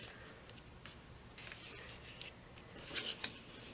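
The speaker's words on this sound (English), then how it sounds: "fold your paper in half, bringing the bottom corner up to the top corner." Origami paper being folded in half, soft close papery rubbing and sliding with a few crisp crinkles, quiet and without talk.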